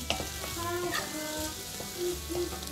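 Chopped zucchini fries in butter in a soup pot, giving a steady close sizzle with faint crackles and light stirring scrapes. No talking.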